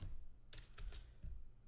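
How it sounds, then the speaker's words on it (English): Code typed on a computer keyboard, a few quick, faint key clicks in a short burst with pauses between, close and alone. "For the moment, we're going to type inside these two brackets."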